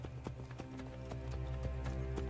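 Horse hooves clip-clopping on stone streets of Rome in the video game Assassin's Creed Brotherhood, a steady rhythmic trot with occasional whinnies over continuous game music.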